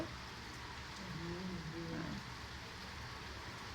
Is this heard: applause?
no